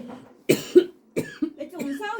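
Several sharp, close coughs in a quiet room, spaced out over a couple of seconds with short gaps and a throat-clearing quality, from a person working through a Sudoku-style puzzle.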